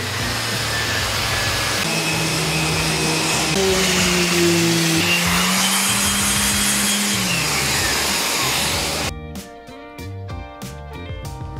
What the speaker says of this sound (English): Sand it up to 220 grit.